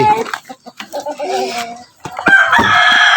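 Chickens and a rooster nearby, with clucking and a crow, while people talk and shout in the background.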